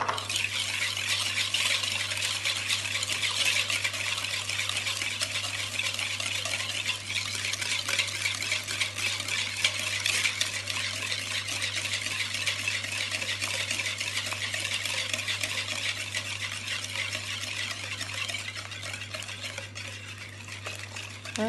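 Ingredients being beaten with a glass of sugar for Moroccan honey and ginger galettes, a continuous close scraping and stirring rhythm against the bowl, steady and unbroken, with a low hum underneath and no voices.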